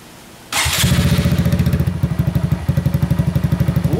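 A 2018 Honda Grom motorcycle fitted with a Two Brothers exhaust starts up with a sudden blast, then settles into a close, steady, deep idling putter with rhythmic thumping pulses.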